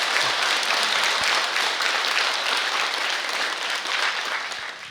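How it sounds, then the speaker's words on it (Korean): Audience applause at a Buddhist temple ceremony, a full, dense wash of many hands clapping steadily, easing slightly toward the end. "큰 박수 부탁드리겠습니다"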